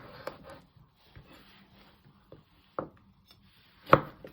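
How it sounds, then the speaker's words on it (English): Knife chopping cherry tomatoes in half on a cutting board in a home kitchen, a few sparse, crisp taps at uneven intervals, close and fairly quiet, with one sharper cut near the end. "You first want to chop them in half."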